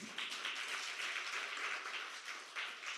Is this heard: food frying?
no